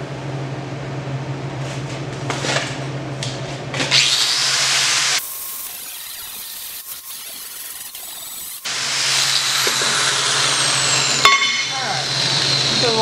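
Metal grinding in a workshop, a loud broadband grinder whine that runs in long continuous passes with a brief break and then starts again, punctuated by a few sharp clanks and knocks.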